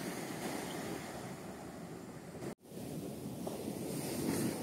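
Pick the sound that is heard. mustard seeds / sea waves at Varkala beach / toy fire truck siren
sea waves at Varkala beach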